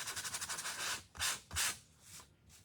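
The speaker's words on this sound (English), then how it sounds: "Okay, again, we're gonna sand." Sandpaper rubs in quick short strokes over a painted wooden shelf sitter, a rapid scratchy run followed by a few longer, louder swipes, close and alone.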